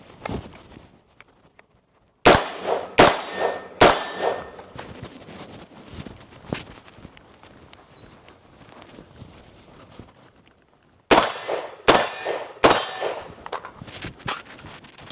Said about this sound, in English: if you want to shoot your 3 rounds